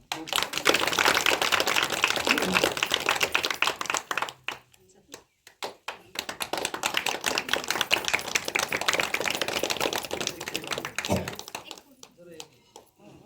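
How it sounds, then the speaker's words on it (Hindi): Villagers clap at a welcome ceremony, with bursts of dense, brisk applause nearby broken by a short pause. Then the clapping dies away and people talk. "आप लोग ताली बजाए"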